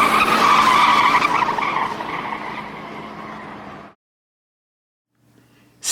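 A Benz with tinted windows speeds away, loud tire skidding and engine roar up front, fading over about four seconds into silence, then a brief soft sound returns at the end.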